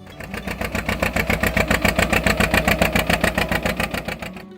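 John Deere 70 tractor engine from the 1950s, a fast, even chuffing beat of firing pulses, loud and close, building in at the start and cutting off abruptly at the end.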